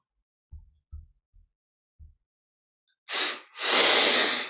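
Two short, faint sniffs in through the nose are followed by a sharp double exhale through the nostrils, the second breath out long, loud and close, with quiet in between during a guided meditation.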